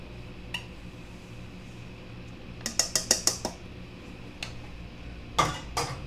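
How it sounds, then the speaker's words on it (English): Walnuts and mini chocolate chips stirred into chocolate fudge waffle batter in a bowl, a burst of quick clinking utensil taps against the dish midway and a couple of scattered knocks, fairly quiet and close with no talking. "We are going to gently stir this in to the wet mixture, and then we will stir in our walnuts and mini chocolate chips"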